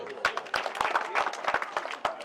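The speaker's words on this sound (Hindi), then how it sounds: "जोरदार ताली भाई।" Clapping breaks out from a crowd at a political rally, sharp scattered claps rising and falling in uneven bursts, fairly close and steady for a couple of seconds.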